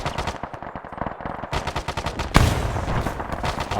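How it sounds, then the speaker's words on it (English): Automatic weapon fire in Arma 3, loud, close, rapid short bursts with brief gaps, one sharper crack breaking out near the end and a reverberant battlefield wash behind it. "just fire in short, controlled bursts, making sure that I do my best to hit something"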